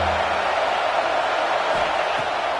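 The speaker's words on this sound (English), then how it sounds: "This crowd rising up, sensing that its defense needs some help." A football video game stadium crowd rises in a dense, continuous roar that stays loud and even throughout, a broad wash of cheering noise with no distinct voices standing out.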